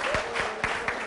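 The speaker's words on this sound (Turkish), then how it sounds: "bir moral alkışı verelim şöyle" Applause of encouragement from a crowd watching a traditional Turkish orta oyunu folk theatre show in Çankırı, broadband clapping with a few strong rhythmic beats standing out over a brief stretch.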